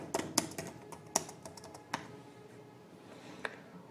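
Quiet, close clicking of keys on a computer keyboard as someone types a search, with irregular bursts of keystrokes that thin out toward the end.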